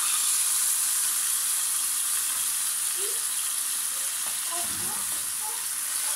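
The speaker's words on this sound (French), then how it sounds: "نبدا نقلي هكا شويه" Chicken pieces fry in a pan for tacos with a loud, steady close sizzle and hiss, plus a few faint stirring knocks near the end.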